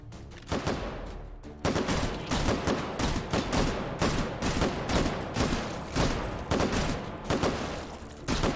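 Pistol in the H3VR virtual reality game firing a rapid, irregular string of loud, close shots, sometimes clustered in quick bursts, continuing for several seconds with no talking.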